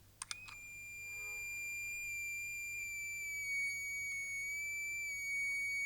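EBow held over guitar strings with tweezers pressed against them, giving a sustained, bright, pure buzzing tone with high harmonics after a few sharp clicks, steady and moderately loud with no talk.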